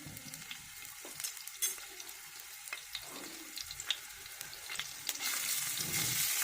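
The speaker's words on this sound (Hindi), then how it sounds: "ऑयल डालें पैन में। वन टीस्पून इसमें लहसुन जाएगा। इसको हम करते हैं पहले फ्राई।" Oil sizzles steadily in a pan with garlic frying, a constant crackling hiss punctuated by small pops and a few utensil scrapes, growing slightly louder toward the end.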